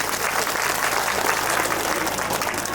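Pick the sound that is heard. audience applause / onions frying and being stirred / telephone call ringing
audience applause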